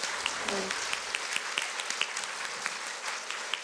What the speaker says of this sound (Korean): 혹시 느껴지시면 박수 한번 해주시면 좋겠는데.